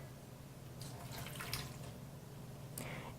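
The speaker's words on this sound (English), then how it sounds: "Next I'm going to put in my water." Water poured from a container into a blender jar already holding strawberries gives a faint, steady splashing trickle with a few brighter splashes over a quiet background.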